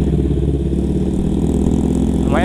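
An older-model Kawasaki Ninja motorcycle fitted with an aftermarket exhaust runs steadily at idle, its low, even engine throb close and continuous throughout.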